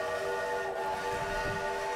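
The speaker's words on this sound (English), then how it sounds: "the train's whistle was going off" Steam train whistle in the Sniper Elite V2 and Sniper Elite 3 video games, a steady sustained tone holding for the full stretch, loud and even with rumbling rail noise underneath and no talk.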